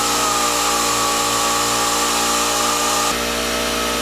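A loud, constant electric power sander hums and grinds against raw wood slats, its tone dropping and changing abruptly near the end as the pressure or speed shifts, no talking.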